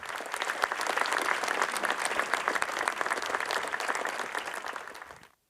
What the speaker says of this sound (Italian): un lungo applauso ha salutato per l'ultima volta il diciottenne